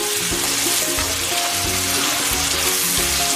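Tomatoes and a sprig of thyme sizzle steadily in a hot pan while being stirred for ackee and saltfish, a close, constant frying crackle with light scraping, and no talking.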